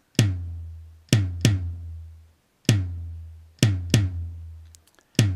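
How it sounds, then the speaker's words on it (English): Bass drum from the Chrome Music Lab rhythm tool, seven deep synthetic thumps in a repeating pattern, each with a sharp attack and a short boomy decay, clean and alone with no other sounds. "Here's the sound of the bass drum."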